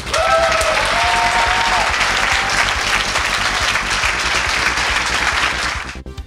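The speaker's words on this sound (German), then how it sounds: "Dein Applaus, Chris!" Audience applause at a science slam competition in Dresden: dense, loud, continuous clapping from a crowd that keeps an even level for several seconds, then fades out at the end, with a brief voice note early on.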